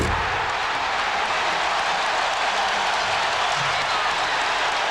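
Dense, steady roar of a large basketball arena crowd cheering during the 1998 Eastern Conference Finals Game 7 between Indiana and Chicago, a loud continuous wash of noise with scattered applause throughout.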